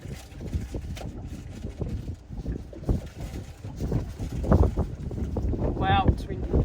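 Gusty wind buffets the microphone out on a boat while fishing on a Sydney waterway, a steady rough roar with water slapping underneath and a brief high squeak near the end.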